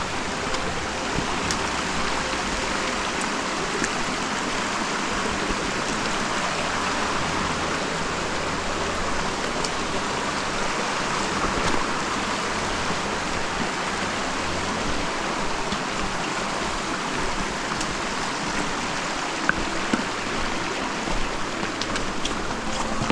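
A rushing mountain stream on a trek trail flows steadily and loudly nearby, a constant dense wash of water that stays even throughout.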